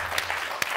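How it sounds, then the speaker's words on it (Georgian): A studio audience at a television game show breaks into a brief burst of applause, a short, close patter of clapping with a couple of sharper hand claps standing out. "აპლოდისმენტები."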